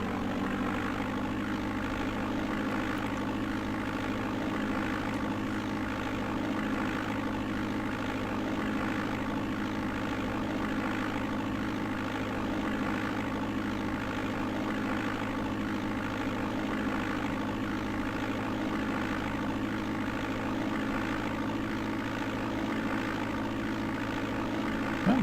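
Simulated propeller aircraft engine roaring steadily through a takeoff run in the DOS game Flight Simulator 5.1, a loud continuous drone with strong low hum and no speech.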